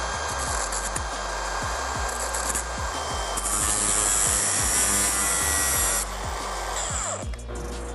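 A power tool, likely an angle grinder or cut-off wheel, cuts through tack welds on stainless steel round bar for a steel sculpture's beak, running loud and continuous at close range with a steady grinding whine and faint repeating knocks underneath.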